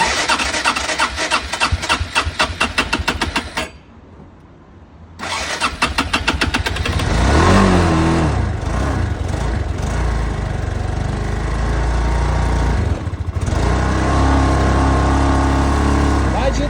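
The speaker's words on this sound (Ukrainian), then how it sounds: "краще би він хапнув і набрав обороти, а не отут задусився і до свідання" A Honda Foresight 250 scooter engine cranks, stalls into a brief silence, then catches and runs, revving up and holding a loud, rough idle with several swells in speed.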